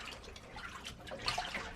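Jeans agitated by hand in a warm dye bath of water, soft sloshing and dripping splashes close up, irregular and fairly quiet.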